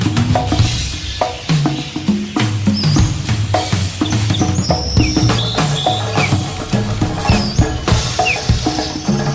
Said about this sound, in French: c'est des méchants moineaux que j'ai là